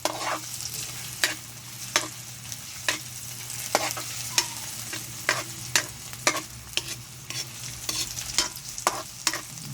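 Dried fish being sautéed in a pan, a soft background sizzle broken by a regular series of sharp scraping and tapping strokes of a utensil against the pan, close and clear, with a low hum underneath.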